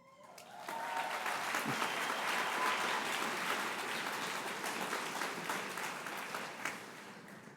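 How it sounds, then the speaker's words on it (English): Graduation crowd at a summer commencement ceremony applauds, a broad, even wash of clapping that rises quickly and holds steady for several seconds, heard at a distance in a large hall. "And that deserves a round of applause."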